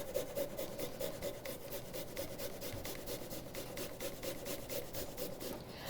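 Garlic scraped over a grater in quick, steady rhythmic strokes, a close, soft rasping repeated many times with no talking.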